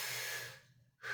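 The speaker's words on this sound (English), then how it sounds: "I just take a deep breath" A single deep breath is let out close to the microphone, a soft breathy exhale that fades away, followed by a quick intake.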